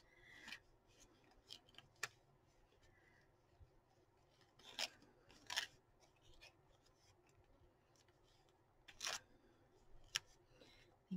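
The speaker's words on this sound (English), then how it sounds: "Maybe I want a little piece of this lace and that I got. Maybe I do. Let's cut some of this up." Scissors snip lace for journal crafting in a few sharp, separated cuts, quiet and close, with faint handling noises and no talk in between.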